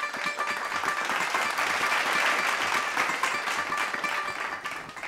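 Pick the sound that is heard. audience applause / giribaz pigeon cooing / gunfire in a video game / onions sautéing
audience applause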